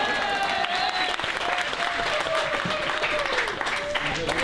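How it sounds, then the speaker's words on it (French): Steady clapping from an apéro-philo audience, even and continuous, with voices and a faint tonal hum running beneath it. "on peut l'applaudir"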